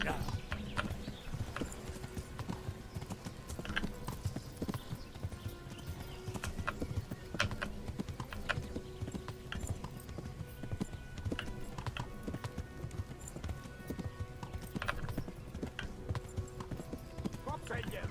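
Horse hooves clip-clop steadily in the Kingdom Come Deliverance video game, a continuous even trot heard throughout with occasional whinnies, faint under game sound.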